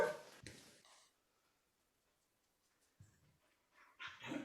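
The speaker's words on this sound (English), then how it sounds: "Annoying barking dog." A dog barks a few times at a distance, with short clustered barks at the start and a couple more near the end, separated by a quiet stretch.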